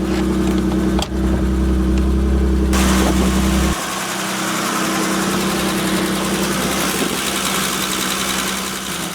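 A 2.5-litre straight-six engine of a 1989 BMW 325i Coupe (E30) idles steadily, a low droning hum with a change in tone partway through, continuous and close by.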